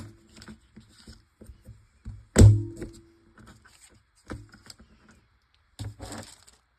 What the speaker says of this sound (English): I'm going to punch a heart just out of that.